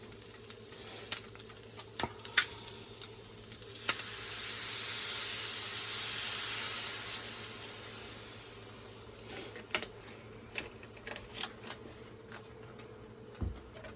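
Milk hitting a hot pan of country gravy brings a broad hissing sizzle that swells and fades, with scattered clicks and scraping from stirring throughout.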